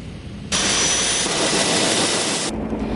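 Loud, roaring rotor and engine noise from a Philippine Air Force Tactical Operations Group helicopter, a dense sustained roar that cuts in abruptly and shifts near the end, no voices.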